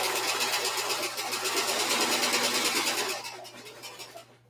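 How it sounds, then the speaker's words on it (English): Sewing machine stitching a slip, a close, fast steady mechanical whir with rapid needle ticking that runs continuously, then slows and fades to a stop near the end. "as I continue to sew this part"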